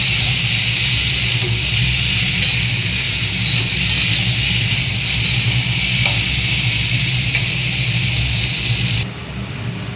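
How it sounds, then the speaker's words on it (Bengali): Bhetki fish frying in a pan with salt and turmeric, a loud continuous hiss of sizzling oil held steady throughout, then abruptly dropping off near the end, no voices. "এবার একটু কষতে হবে, লবণ দিয়েছি, হলুদ দিয়েছি।"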